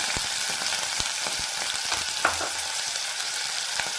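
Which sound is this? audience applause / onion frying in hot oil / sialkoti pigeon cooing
onion frying in hot oil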